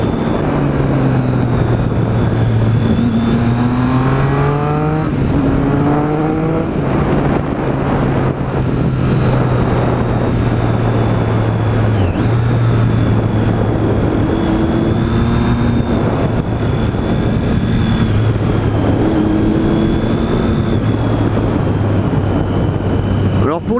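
Triumph 675 Street Triple motorcycle with a small carbon silencer, heard while riding: a loud, close engine drone that rises and falls with repeated revving through the gears, with a voice speaking over it.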